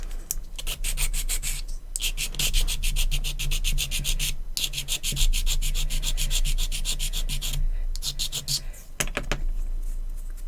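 Sanding a hobby model base by hand produces close, steady rasping strokes in quick rhythmic bursts with a few brief pauses, running for about ten seconds with a low hum underneath and no talking.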